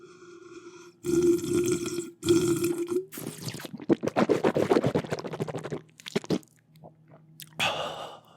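Close, wet gulps and swallows of water drunk from a glass jar used as a mug, several sips with small clinks and a soft exhale between them, no talking.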